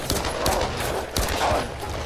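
Rapid, continuous bursts of video game gunfire in Tomb Raider crackle loudly, with volleys overlapping and a brief lull before the firing picks up again.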